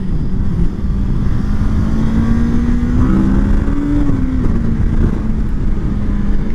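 A Honda Grom motorcycle rides along in strong wind, its small engine droning steadily up close with rising and falling pitch as it revs, heavy wind rumble throughout.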